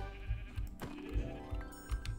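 Sheep in the video game Minecraft give a clear bleat, a short wavering baa heard close and alone over low thumping game sounds.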